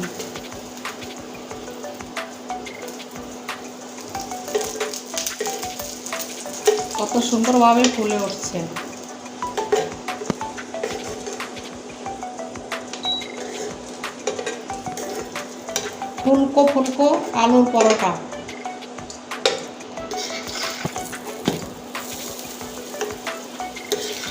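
Aloo paratha frying and puffing on an oiled pan as more oil is spooned over, a steady soft sizzle with occasional scraping and clatter, swelling louder in two bursts.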